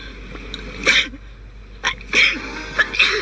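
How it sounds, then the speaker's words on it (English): A person sneezes several times in a row, loud bursts close by with short pauses between them. "Oh, I've sneezed."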